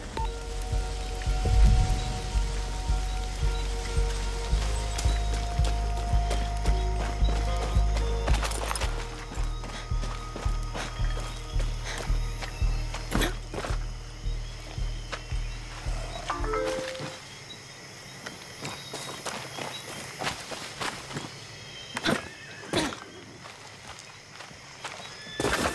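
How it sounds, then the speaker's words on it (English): A horse in Far Cry 6 gallops with rhythmic, repeated hoofbeats over a low engine-like drone and game sound effects, with a neigh heard early on. "That's a good horse."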